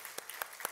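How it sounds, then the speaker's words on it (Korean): Congregation at a Sunday church service claps in a few quick, evenly spaced beats, fairly faint and brief, with no other sound standing out. "박수 한번"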